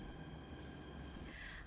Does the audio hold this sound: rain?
no